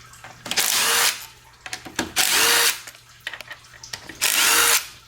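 A power tool spins out the 8mm valve body bolts on a 2008 Dodge Ram 2500 Cummins transmission, firing in three close, loud whirring bursts of about a second each, with brief clicks and clatter between them.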